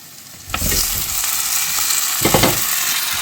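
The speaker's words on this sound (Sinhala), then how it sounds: "මේ වෙලාවේදී මම මේකට එකතු කරනවා අපේ පොලොස් ටික." Jackfruit pieces dropped into a hot frying tempering for a Sri Lankan polos curry, with a brief loud hiss and sizzle at the start, then steady frying crackle broken by stirring scrapes near the end.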